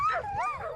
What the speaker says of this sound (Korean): 저를 제일 먼저 환영해 준 것은 우렁차게 짖고 있는 썰매견들인데요.